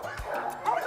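A dog at an animal shelter gives a short bow-wow bark with a slight whimpering edge, close and fairly loud.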